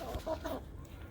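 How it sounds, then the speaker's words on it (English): Soft, close chicken clucks, a few short murmuring calls over a steady low background. "Hello, chickens."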